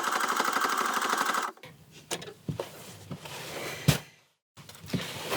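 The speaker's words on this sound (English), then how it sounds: "So now we need to sew this closed, also right across this top edge." A sewing machine stitches the top edge of a handmade heat pack closed, running in a steady loud whir for over a second, then stopping amid clicks and handling clatter, with a brief second start near the end.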